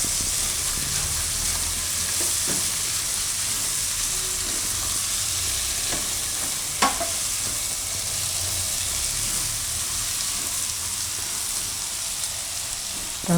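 Boiled green chickpeas being stirred in a hot pan for a Gujarati chickpea and eggplant oro, a steady sizzle with soft scraping and occasional sharp clinks of the spoon against the pan.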